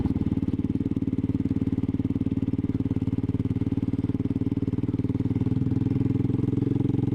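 A Royal Enfield Classic 500 motorcycle ridden over a desert mountain pass near a lead mine, its single-cylinder engine thumping in a steady, loud, even rhythm throughout at a constant cruising pace, with no talk.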